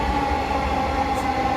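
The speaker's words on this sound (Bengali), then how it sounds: "আমাদের ট্রেনটি চলে এসেছে।" A Dhaka metro rail train coming into a station, a brief loud steady rumble with a sustained humming tone from the carriages.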